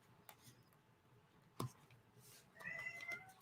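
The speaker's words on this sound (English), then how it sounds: "Oh, there's the kitty." A cat meowing indoors during a card-making session, one faint, drawn-out meow near the end over quiet room tone and a brief thump.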